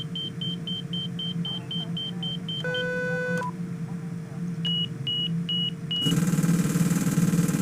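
Cockpit warning tones from a Cessna Citation X in X-Plane Mobile: rapid repeated high beeps, a brief sustained chord, more evenly spaced beeps, then a harsher, louder continuous alarm taking over near the end.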